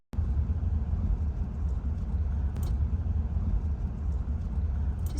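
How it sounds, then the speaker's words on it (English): A car driving through Grand Teton National Park toward a campsite: a steady, low interior road rumble and engine drone heard from inside the cabin, continuous and unchanging, with a faint click or knock midway. "Just driving to find our campsite."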